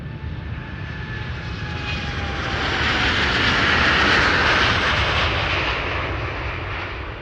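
An Air Canada airliner departs Amsterdam Schiphol airport with a loud, close jet roar that builds steadily to a peak, its harsh hiss and rumble filling the air without a break.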